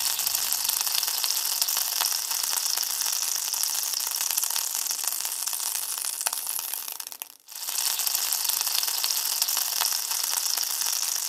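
Dried red chillies crackle and sizzle in hot oil in a pan while hog plum chutney cooks, a steady close crackling with one brief quiet dip partway through.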